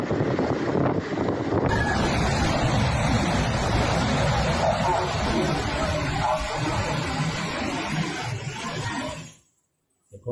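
Storm waves on the Black Sea during a strong storm roar as a broad, continuous rush of surf and wind buffeting the microphone, steady and loud, then cut out abruptly near the end.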